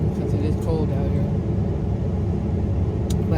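A car heater runs inside a parked car on a cold day, making a steady, fairly loud blowing hum with a low rumble. A few small clicks and mouth noises come through over the top.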